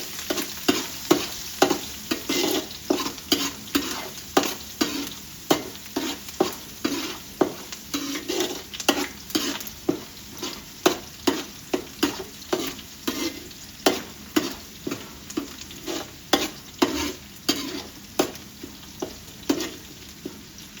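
Green chilies frying in hot oil in a pan with curry leaves and salt, a steady sizzle broken by frequent rhythmic scrapes and taps of the spoon as they are stirred, close and fairly loud throughout with no voices.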